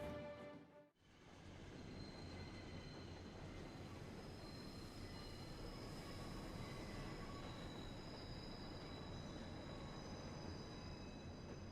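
A game train from Final Fantasy XIV rolls along in a continuous loud rumble with faint high squealing wheels, steady and close after a brief dip at the start, with no voices.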